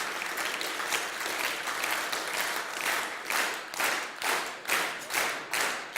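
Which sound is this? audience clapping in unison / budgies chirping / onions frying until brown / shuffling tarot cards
audience clapping in unison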